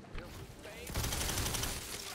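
An electric sniper rifle in Tiny Tina's Wonderlands fires a burst of crackling, rapid shots in a dense, loud volley after a brief lead-in of quieter game noise.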